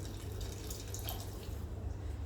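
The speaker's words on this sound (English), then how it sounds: "then you can add in some hot water just to bring it up to the sauce level that you want" Hot water is poured into a pot of tomato sauce for a vegetarian eggplant lasagna, giving a steady, close liquid pour and splash that runs without a break for the whole stretch, with no talking over it.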